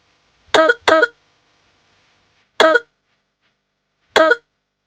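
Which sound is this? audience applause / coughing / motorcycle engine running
coughing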